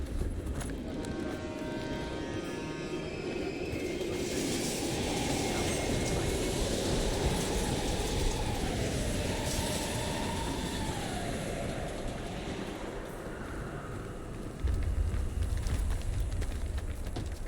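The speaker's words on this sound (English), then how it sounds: "We can use a train to slip past." Train rumbling past at an abandoned East German station in Call of Duty: Black Ops Cold War, a steady loud roar with a rhythmic clatter and rising whine, then a heavier surge near the end.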